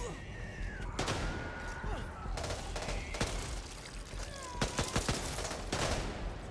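Gunfire from an MP5 submachine gun in the zombie shooter Back 4 Blood, with bursts of sharp shots in quick succession throughout, heavier clusters near the end, over a busy game soundscape.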